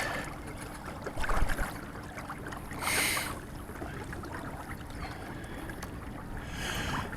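A kayak fitted with a trolling motor turns slowly on open water, giving a low steady motor drone and water sloshing, with brief splashy bursts and light wind noise throughout.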